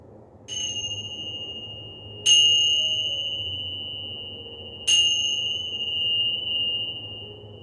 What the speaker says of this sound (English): Let your mind, your body, and your soul absorb the vibrations of the bells